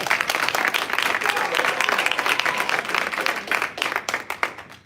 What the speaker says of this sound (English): go ahead, y'all can clap